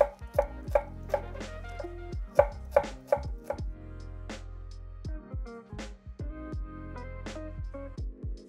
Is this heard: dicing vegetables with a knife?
yes